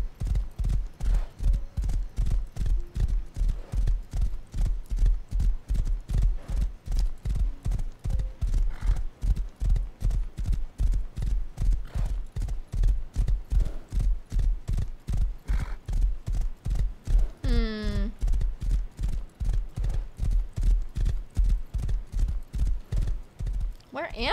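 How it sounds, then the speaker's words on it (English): A horse walks along a lonely road in a steady, even clip-clop that continues throughout, close and clear, with a short whinny midway and a voice speaking faintly at times. "me and my horse on this lonely road"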